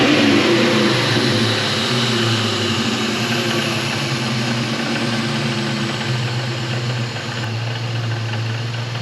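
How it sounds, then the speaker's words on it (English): The 2004 SVT Cobra's supercharged engine runs loud and close after an EGR delete, a steady throaty rumble with a slight rise and easing as it is revved a little, with no talking. "I am going to go ahead and rev it up just a little bit to make sure the boost gauge is actually correct"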